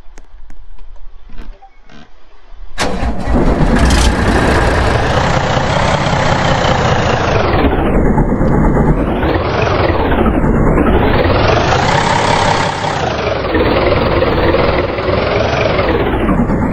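A truck engine in a Roblox game starts with a sudden roar after a few quiet seconds, then drones heavily, revving up and down in long swells, loud and close.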